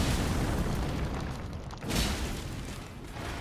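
Flame of the Fell God fire spell exploding in Elden Ring: a dense, roaring wash of flame and rumble, then a sudden burst that swells briefly before settling back into the ongoing fiery roar.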